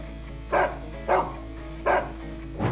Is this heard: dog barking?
yes